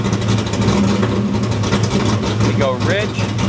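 A small block Ford V8 in a Foxbody Mustang rumbles and rises in pitch as the throttle is hit, close and steady, with a voice talking over the engine.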